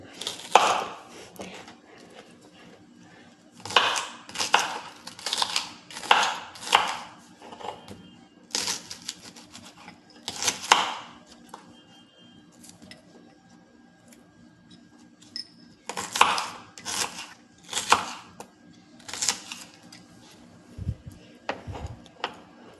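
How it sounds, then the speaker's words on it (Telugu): Star fruit being chopped into small pieces for a dal, bursts of quick, crisp knife cuts in clusters separated by quiet pauses, close and with no talking. "ఇలా ముక్కలన్నీ మనం కట్ చేసి పెట్టుకుందాం"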